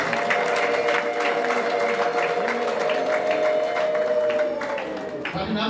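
Audience applause at a traditional Rwandan Gakondo performance, a dense, steady wash of clapping from a crowd that holds loud and even before tapering slightly at the end, with a sustained tonal voice or instrument running underneath.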